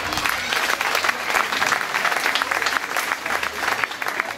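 Audience at a village fair (Kerwe) speech applauds steadily, a dense, even burst of clapping from many hands that holds for several seconds.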